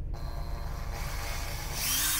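A Makita DHP453 cordless three-function drill runs steadily with a close, continuous motor whine, rising slightly in pitch and loudness near the end.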